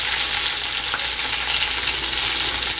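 Shrimps frying in oil until browned, a loud, steady, dense sizzle that continues evenly throughout with no talking.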